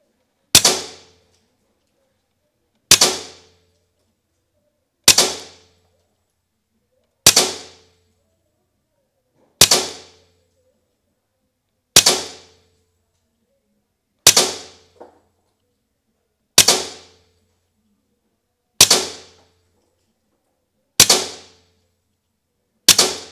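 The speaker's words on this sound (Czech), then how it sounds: "Tak, toto bylo 12 výstřelů" A Taipan Slash air rifle fires a series of about ten sharp, loud shots at steady intervals of a couple of seconds, each crack decaying quickly into silence.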